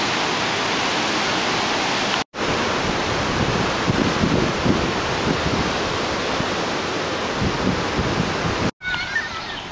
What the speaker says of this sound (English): Here's another amazing beach on Uluwatu that I am falling in love with.